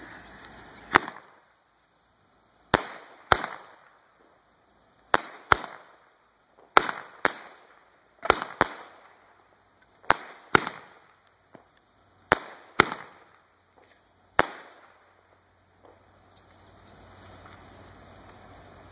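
Daytime Boomer Parachute Battalion fireworks fire a series of sharp, loud bangs about a dozen times at irregular intervals of one to two seconds, each a crisp crack with a short fading tail, followed by quiet at the end.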